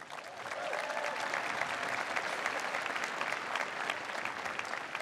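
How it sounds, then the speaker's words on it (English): Dense, steady applause from a large audience at the Notre Dame 2016 commencement ceremony, filling the whole stretch at an even level with no voices on top. "So how about a round of applause for them?"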